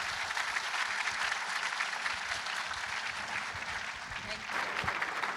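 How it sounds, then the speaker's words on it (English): A crowd applauds awardees at an advocacy awards event, with sustained, even clapping throughout and a few voices mixed in near the end. "Please, a round of applause for these great awardees."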